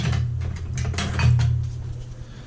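A spoon scrapes and clinks in a pan, stirring garlic and onions in olive oil over medium heat, giving a run of close, quick taps and scrapes over a low steady hum.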